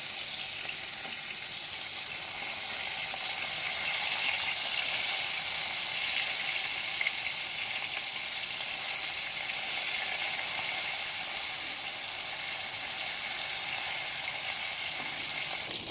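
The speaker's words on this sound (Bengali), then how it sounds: "ঠিক এইভাবে মাছগুলো ভেজে নিতে হবে।" Katla fish fry in oil in a kadai with a continuous bright sizzle and crackle, steady and close, with no talking.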